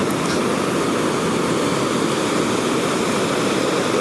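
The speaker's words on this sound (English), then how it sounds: "There are multiple layers of waves, like 1, 2, 3, 4, 5 layers of waves." Ocean waves breaking at Calangute Beach in Goa, India, several rows of surf rolling in together as a steady, loud, unbroken roar with no voices.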